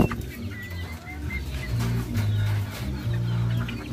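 Gamecocks and chickens cluck repeatedly at close range in a breeders' yard, with short steady low calls in bursts against a busy outdoor background and no talking.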